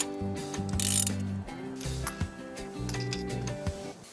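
A ratchet wrench with a 16 mm spark plug socket works on a Nissan X-Trail engine, giving quick runs of close mechanical clicking and whirring in short bursts with brief pauses, heard alone without talk.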